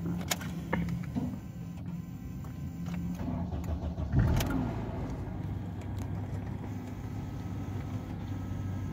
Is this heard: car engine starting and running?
yes